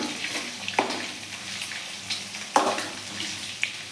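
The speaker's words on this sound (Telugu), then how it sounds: "మనం ఆయిల్లో ఎగ్గుని ఇలా చాలాసేపు వేగనివ్వాలండి సిమ్లో పెట్టి" An egg fries in oil in a pan on a low flame while making egg fried rice, giving a soft, continuous sizzle broken by a few sharp pops and spatters.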